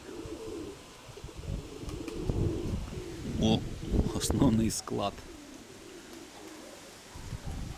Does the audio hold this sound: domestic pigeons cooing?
yes